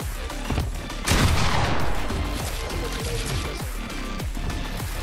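Rapid gunfire in a shooter video game, a dense burst of loud shots followed by a steady rhythm of repeated cracks with metallic ringing.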